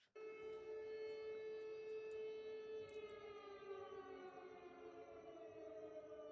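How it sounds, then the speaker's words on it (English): Air raid sirens in Lublin, Poland wail steadily and loudly, a sustained layered tone that slowly falls slightly in pitch, with no voices. "here's another clip of the air raid sirens from Lublin."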